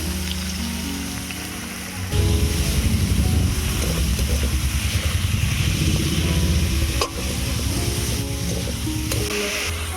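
Chicken hits a pan of hot ginger-garlic paste, bursting into a loud, steady sizzle after a quieter start, with a brief stir partway through.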